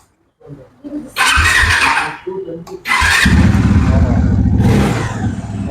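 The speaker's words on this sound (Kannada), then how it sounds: "ಆನ್ ಮಾಡಿ ಸರ್, ಸೌಂಡ್ ನೋಡೋಣ ಗಾಡಿದು" A motorcycle engine fires up and idles with a steady throbbing rumble, close by, with people talking over it at the start.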